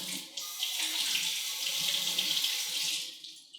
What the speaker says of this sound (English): now it's time to rinse out the eggs